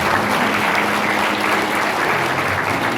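A crowd at a corporate awards ceremony claps loudly and continuously in a thick, even wash of applause that fills the whole three seconds.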